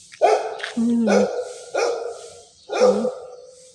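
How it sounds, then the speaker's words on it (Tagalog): A dog barks four times in a steady rhythm, close and loud, with a voice murmuring faintly underneath, outdoors near the back of a church in the Philippines. "Mabait yung aso."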